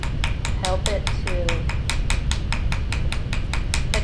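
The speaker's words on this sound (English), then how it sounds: "you can use a ball peen hammer like so, and just help it to" Ball peen hammer tapping a metal tube rivet to texture and flatten it for jewelry making, a steady run of about fifteen quick, close, evenly spaced metallic taps over faint background noise.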